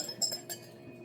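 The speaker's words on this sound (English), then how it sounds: "So we're just going to mix the spice." Spices stirred into vinegar, oil and tomato paste for a lamb vindaloo make a few light clinks of a utensil against a bowl, quiet and close with short gaps.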